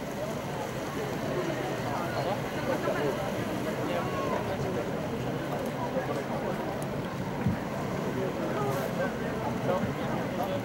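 A motorboat engine drones steadily and loudly throughout while towing another boat on the water, mixed with wind buffeting the microphone.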